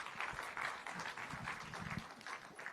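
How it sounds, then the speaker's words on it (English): Crowd applause at a live global meditation leaders' conference, honouring a meditation grandmaster: dense, steady clapping from a large audience filling the hall throughout, with no voices over it. "There's a big clap to this Grandmaster"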